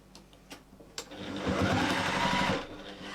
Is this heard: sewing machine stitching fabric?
yes